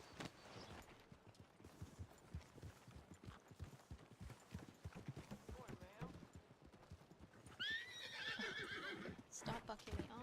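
A horse in a western-themed video game whinnies loudly near the end after a run of rapid hoof clip-clops, with a person talking over the action.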